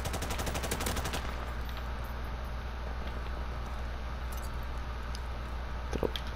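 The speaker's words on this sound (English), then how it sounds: "Cranberry Sauces is just over here M4 carbining as well" M4 carbine fire in Modern Warfare Remastered, a quick burst of rapid shots at the start, then a low steady game background with faint distant pops.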